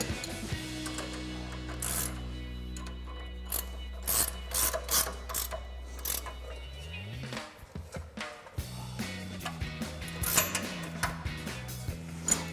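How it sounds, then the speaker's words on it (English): A 21mm ratcheting wrench tightens a sway bar link nut on a RAM 2500 while a 10mm wrench holds it, producing repeated close bursts of rapid ratchet clicks over a steady background hum that drops away partway through. "We're going to tighten that down with our 21mm ratcheting wrench and the 10mm wrench to hold it."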